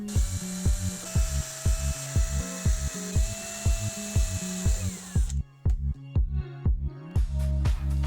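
A power drill whirs in short repeated bursts, stopping and starting in a steady rhythm as it bores holes in plastic boxes, close and fairly loud.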